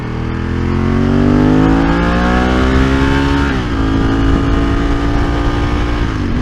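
A 29-year-old Ducati 916 motorcycle at speed on the road, its engine roaring loud and close, pitch climbing steadily, dipping briefly as the gear changes, then rising again without pause.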